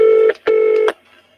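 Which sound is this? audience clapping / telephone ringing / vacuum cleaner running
telephone ringing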